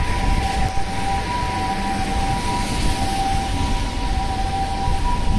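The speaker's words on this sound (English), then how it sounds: "Very loud ambulance." A steady, loud ambulance siren tone drones on without pause, layered over dense low rumbling traffic noise.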